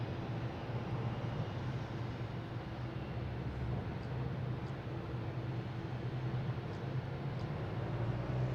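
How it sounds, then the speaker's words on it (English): An American Airlines Embraer E175 regional jet arriving at Boston Logan from Buffalo, heard as a continuous even engine rumble and hiss at moderate level with a faint low drone and no break. "We have American Airlines coming in from Buffalo in E175"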